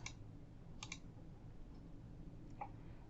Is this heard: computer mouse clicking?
yes